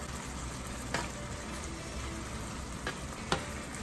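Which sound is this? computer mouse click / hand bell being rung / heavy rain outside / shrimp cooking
shrimp cooking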